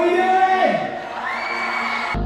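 Cheering and whooping from a hometown concert crowd of more than 20,000 people, a dense roar of voices with rising yells that briefly dips and then swells again before cutting off.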